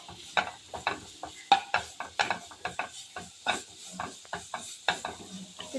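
Grated carrot stirred in a pan while cooking carrot payasa: a steady run of close scraping, tapping spoon strokes against the pan over a faint sizzle, with no talking.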